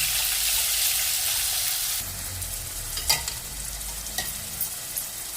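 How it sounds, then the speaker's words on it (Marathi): A ground spice paste fries in oil in a pot for egg curry. A loud hiss at the start settles into a steady sizzle, with a few sharp scrapes and clinks as it is stirred. "आता मी पातेल्यामध्ये तेल घातलेलं आहे. आता आपण हे तेलामध्ये परतून घेऊया."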